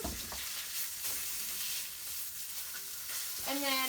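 Pork chops sear in a pan with butter, a steady bright hiss and crackle of frying up close, with faint stirring and clatter, no voices.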